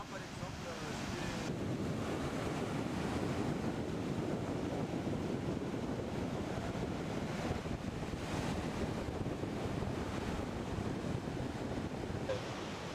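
Indian Ocean waves off Madagascar rumble and wash continuously, heavily mixed with buffeting wind noise on the microphone.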